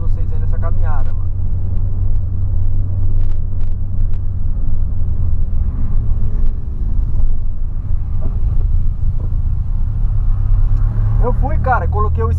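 A 2008 Volkswagen Polo fitted with a sport exhaust, its engine a steady deep low rumble with some wind buffeting on the microphone and faint higher rattles near the end, under speech.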